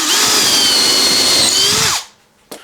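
A power drill bores a 10 mm hole in hardwood for a guitar build, a steady loud whine for about two seconds that winds down to a stop, followed by a short knock.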